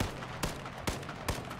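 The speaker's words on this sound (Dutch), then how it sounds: "Aan de schoten te horen staat er iemand letterlijk daar op het dak." Three muffled gunshots from the video game H1Z1 sound at even intervals, distant and fairly faint, fired from a rooftop, over a steady background rumble.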